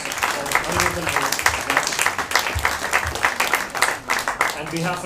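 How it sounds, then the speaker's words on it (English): Audience applause at a temple program for Sri Krishna Janmashtami fills the room with steady, sustained clapping from a crowd, while a voice speaks over it throughout. "Please again a grand applause for Aniruddhan."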